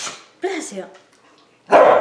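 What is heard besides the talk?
dogs barking in the kitchen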